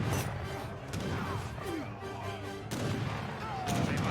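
Skirmisher musket fire in the strategy game Age of Empires 3 crackles as a battle rages, with repeated sharp volleys and crashes, several louder bursts near the start, middle and end.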